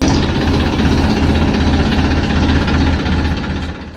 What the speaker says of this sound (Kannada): ಬೇಗ ಗಾಡಿ ಒರೆಸ್ಕೊಂಡು ಟ್ರ್ಯಾಕ್ಟರ್ ಸ್ಟಾರ್ಟ್ ಮಾಡಿದೆ. ಸೌಂಡ್ ನೋಡಿ ಹೇಗಿದೆ.